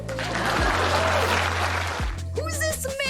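An audience claps in a dense, steady wash for about two seconds during a reaction stream, then a voice speaks as the clapping ends, with a low hum underneath.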